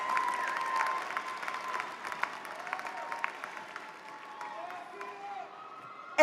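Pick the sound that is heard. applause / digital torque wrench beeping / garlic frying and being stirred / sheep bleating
applause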